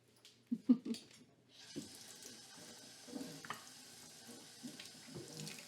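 A tap runs with a steady, quiet stream of water after a few soft clunks, close by and unaccompanied by talk.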